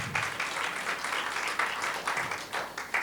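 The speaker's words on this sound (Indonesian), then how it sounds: "Beri tepuk tangan kepada Tuhan." A church congregation claps together during a women's gathering, a moderately faint, steady patter of many hands with a few louder surges.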